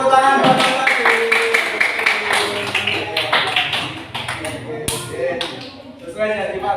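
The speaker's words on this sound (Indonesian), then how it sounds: "tepuk tangan buat Mas Wadil" Classroom clapping, irregular claps and taps from a group of students mixed with chatter and voices throughout, fairly close and lively.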